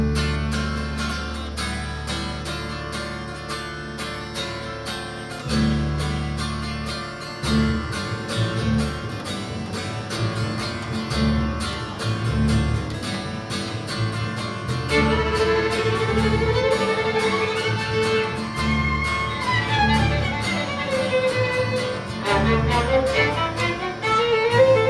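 A fiddle leads a band through a fast, driving country tune, bowed lines racing over steady bass and drums, loud and continuous throughout with no talking.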